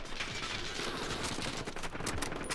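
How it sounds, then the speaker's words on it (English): Gunfire aimed at the player in a Bungie shooter game, rapid, crackling bursts of shots in a steady barrage, moderately loud, with sharper reports toward the end. "they're shooting at me"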